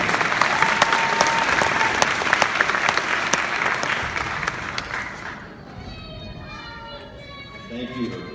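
A crowd at a college graduation ceremony claps loudly and steadily for several seconds, the applause fading out as a voice begins speaking at the end.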